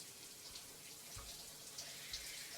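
Shower water running in a TV drama scene, a soft, steady hiss of spray with faint splashes, low and continuous with no voices.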